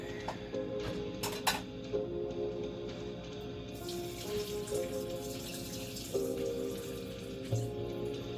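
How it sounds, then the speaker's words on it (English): Instant ramen broth for Myojo Charumera Miso Ramen being poured out, a steady close liquid pour and trickle like a running tap that continues for several seconds without talk. "There goes the last of the broth."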